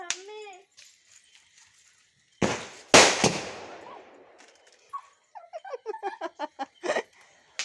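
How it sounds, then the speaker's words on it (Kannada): Diwali firecrackers burst at a home celebration: two loud sharp bangs with crackling decay, then a rapid run of small popping crackers in quick succession, with laughter and voices early on. "ಪಟಾಕಿ ಬಿಡ್ತಿದ್ದಾನೆ"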